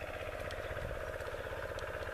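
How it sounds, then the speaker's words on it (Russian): Homemade tractor ploughing a spring field with a two-furrow plough, its engine running as a steady, loud, continuous drone with a rhythmic low throb, close by and with no voices. "Вот так пашет двухкорпусный плуг."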